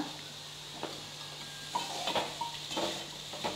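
Carrots and salt get stirred in a hot pan, with soft sizzling underneath and a few scraping, clinking strokes of a utensil against the metal, close and unhurried, no talking.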